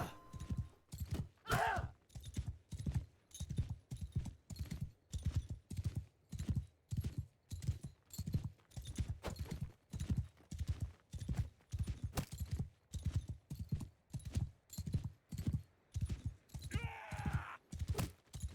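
Horse hooves galloping in the game Mount and Blade II: Bannerlord, a fast, steady clip-clop of hoofbeats throughout, close and loud, with a brief whinny-like sound near the start and again near the end.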